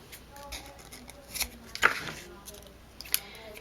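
Scissors snip through ribbon during a papercraft project with cutting dies, a few small crisp cuts at close range over a faint background.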